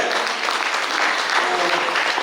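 Loud, dense applause from a large audience at an Azadi Fest motivational event in Madikeri, steady and close throughout without a break.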